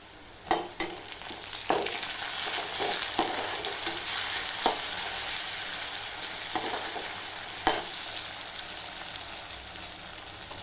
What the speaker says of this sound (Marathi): आता आपण त्याच्यामध्ये टमाटर टाकूया.